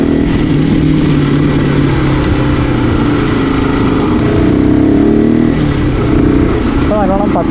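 Close, loud engine of a Yamaha R15 V2 motorcycle with a K&N air filter and aftermarket exhaust, holding a steady drone with throttle blips and a rise near the end.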